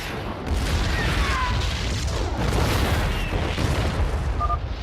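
Siege tanks shell in StarCraft II: Wings of Liberty: loud booming explosions and cannon fire rumble continuously, with distant blasts and mechanical clatter layered over a heavy low-end roar.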